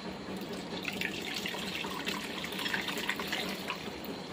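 Curd starter poured into boiled, cooled milk gives a steady soft trickling and splashing of liquid, close and continuous without any talk.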